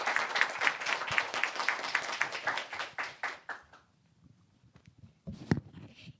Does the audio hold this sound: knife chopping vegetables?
no